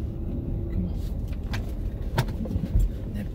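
A big GMC truck rumbles past nearby with a low engine drone, amid road noise and a few clicks and bumps close by.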